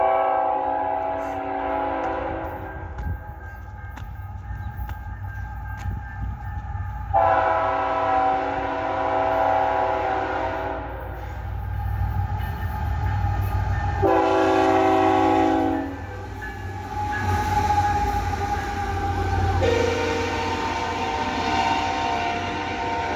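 A freight train led by three Tier 4 GE locomotives rumbles steadily past up close, its horn sounding loudly in several long blasts, with wheels and cars clattering underneath throughout.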